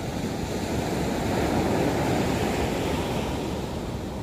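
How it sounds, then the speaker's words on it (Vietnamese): Big ocean waves breaking on Nha Trang beach, a steady loud roar of surf with wind rushing past the microphone throughout, no voices. "Tại vì sóng biển lớn quá nên người ta không có tắm"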